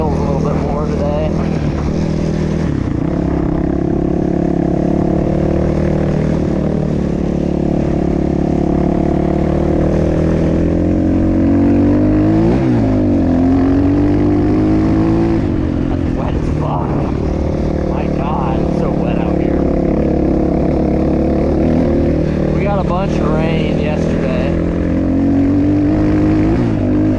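A Kayo K4 250 dirt bike is ridden hard along trails, its engine droning loud and steady throughout with rising and falling revs as it shifts and accelerates, wind rumble mixed in.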